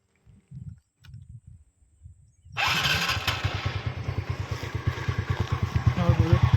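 A TVS Ntorq 125 scooter with about 20,000 km on it cranks and starts, then settles into a steady, close, throbbing exhaust idle that swells slightly; brief talk comes just before the start.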